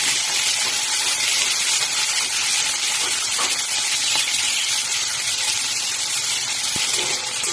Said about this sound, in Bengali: টমেটো আর পেঁয়াজটাকে একটু ভালো করে তেলের মধ্যে একটু ভেজে নেব।